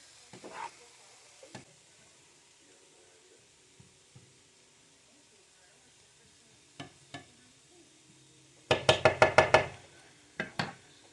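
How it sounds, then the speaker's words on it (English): Cabbage frying and wilting in a pan for pork and shrimp egg rolls, faint sizzling broken by scattered stirring knocks and a quick, loud burst of utensil clatter near the end. "As you cook the cabbage, it will wilt down and become easier to move around in the pan"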